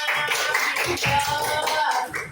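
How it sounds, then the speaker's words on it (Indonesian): Classmates clap for a student in a classroom, a dense uneven patter of hands with a few distinct claps, moderately loud and close, with faint voices mixed in. "Kasih tepuk tangannya untuk Bang Hafiz."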